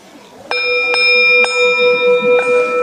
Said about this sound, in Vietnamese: cái người mà trước khi thỉnh chuông phải chuẩn bị tư thế đứng như thế nào, cầm dùi như thế nào